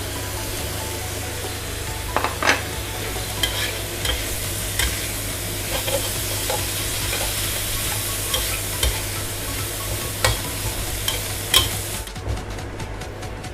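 Mango and carrots stir-fried in a pan with holy basil, a constant close sizzle broken by repeated scraping strokes of a spatula at an irregular rhythm, with no talking.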